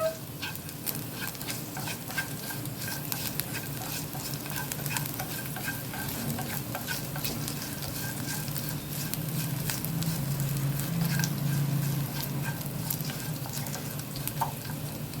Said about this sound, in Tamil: எல்லாத்தையும் சேர்த்து நல்லா இப்படி ஒன்று சேர கிளறி கொடுத்துக்கலாங்க